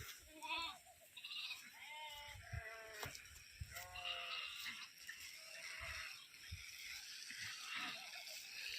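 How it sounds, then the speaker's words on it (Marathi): A flock of sheep bleats in a field, with several overlapping wavering calls near and far in an irregular series over a background of rustling and ambient noise. No one speaks. "बघा मेंढ्या"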